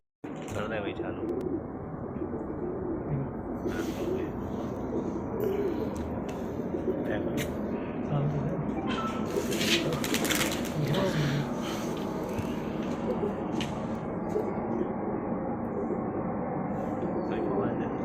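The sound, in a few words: racing pigeons cooing as they land at the loft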